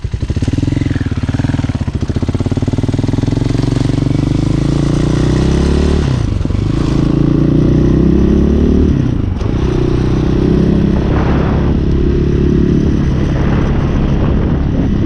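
A Honda Hawk 250cc motorcycle engine runs loud and close, idling with a steady throb and rising into several revs that swell and fall back, with some light popping in the exhaust.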